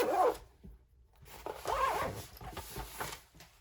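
A zipper is pulled closed in a kitchen setting, two rasping bursts of zipping separated by a short pause, near and moderately loud with no talk.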